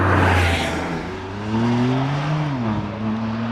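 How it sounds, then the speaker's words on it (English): A BMW M2 pulls away from the line at a hillclimb, its engine note rising through the revs with a gear change partway, loud and close at first, then settling as the car moves off. "Simon Atkins heads away in the BMW M2"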